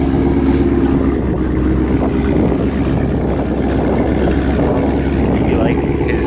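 A car engine runs at a car meet where Mustangs and Nissan 350Zs are gathered. The engine makes a loud, steady rumble close by, with crowd noise and wind washing underneath.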